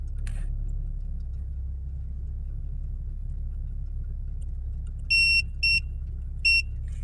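A car's aftermarket OBD2 heads-up display sounds its overspeed alarm: three sharp electronic beeps, two close together and one after a short gap, over a steady low engine and road rumble.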